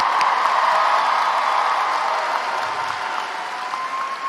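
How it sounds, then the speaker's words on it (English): Graduation ceremony audience applauding loudly in a large venue, dense sustained clapping with scattered cheers that holds steady and eases slightly toward the end. "let's give them an applause"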